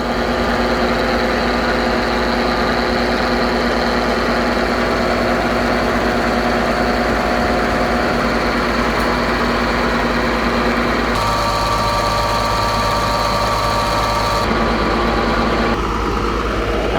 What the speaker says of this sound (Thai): ตอนนี้ก็กำลังสูบน้ำขึ้นทางครับผม